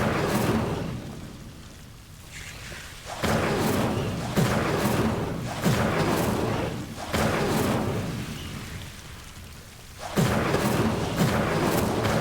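Repeated fire spell casts in Hogwarts Legacy, each a sudden whooshing burst that swells and fades, several in a row with short gaps, loud against a quieter rumbling background.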